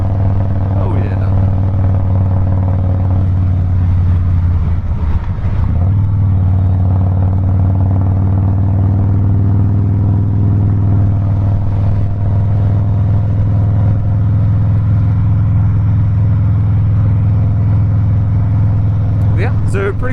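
A 2017 Harley-Davidson Softail Breakout motorcycle cruising easily, its engine giving a steady, loud low drone with a continuous rumble and wind throughout, no sharp revving.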